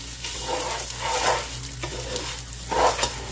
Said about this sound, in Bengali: এখন এই তেলের সাথে চালটাকে মিক্স করে নিব।